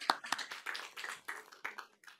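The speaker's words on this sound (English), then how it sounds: "One more clap." Hand claps at a conference presentation, a few sharp close claps near the start followed by scattered tapping and murmuring room noise.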